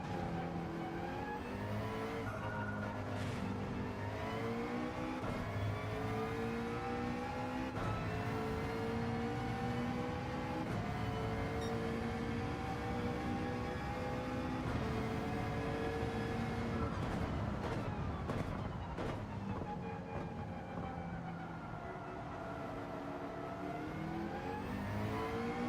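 A McLaren race car in Gran Turismo 7 revs hard and continuously, its engine pitch climbing and dropping through gear changes. The loud, close engine note carries on alone for the whole stretch.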